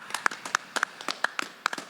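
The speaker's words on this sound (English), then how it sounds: "Let's all give them a big hand of applause" Scattered clapping for graduates at a university spring commencement, a thin patter of separate claps from a small number of people rather than a full crowd, fairly quiet and without talk.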